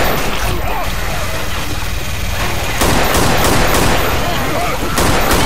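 Sustained minigun fire in a Left 4 Dead style zombie game, a loud dense unbroken stream of rapid shots with a brief shift midway, over other game noise.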